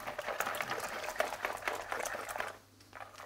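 Pancake batter with melted butter being stirred in a bowl, a fast, rhythmic wet swishing and scraping, close and fairly quiet, easing off near the end.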